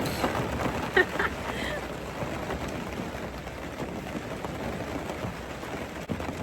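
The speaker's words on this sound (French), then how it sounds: "La pluie, c'est magnifique!" Soft, steady rain patters throughout, with a couple of brief knocks and faint high tones near the start.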